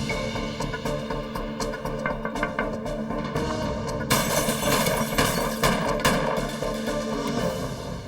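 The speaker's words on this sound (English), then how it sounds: "The witness hears the gunshots." Gunfire from a nighttime ambush on a police officer's car in Jamaica, Queens, heard as repeated sharp bangs over a dense, rumbling dramatized soundtrack, loud and close.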